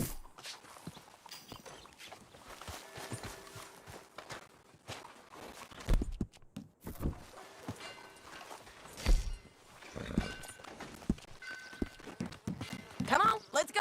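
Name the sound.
horse hooves while riding, video game Red Dead Redemption 2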